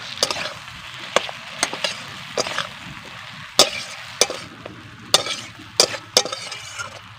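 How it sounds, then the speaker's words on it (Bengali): Mustard and poppy seed paste stirred into a hilsa and ridge gourd curry in a pan, with repeated sharp spoon scrapes and clinks over a steady low sizzle, close and fairly loud with no talking. "আমি দিয়ে দিচ্ছি সর্ষে আর পোস্ত বাটা আমি দু চামচ পরিমাণ দিয়ে দিচ্ছি"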